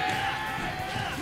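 Tournament crowd at a Smash Bros. Melee match cheers and roars steadily, a dense wash of voices holding at a moderate level over the brief stretch.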